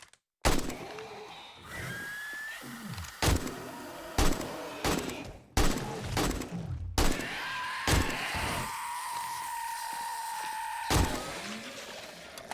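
AK rifle fire in the survival game 7 Days to Die: sharp, loud single shots and short bursts spaced irregularly across the clip, with scattered game noise and tones between them.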